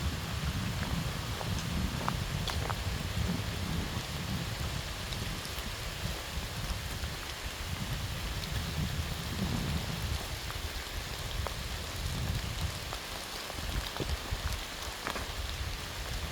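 Steady rain falling outdoors on a walk along a gently sloping path, a continuous dense patter with scattered sharper drops, even in level throughout and with no talking.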